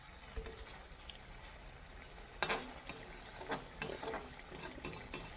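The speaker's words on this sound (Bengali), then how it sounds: "এবার একটু নাড়াচাড়া করে দিব" Fish being stirred in a pan with ginger and mustard oil, faint scraping and light sizzling with scattered soft clinks, close and quiet, no talk.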